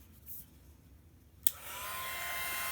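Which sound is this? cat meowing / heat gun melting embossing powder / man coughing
heat gun melting embossing powder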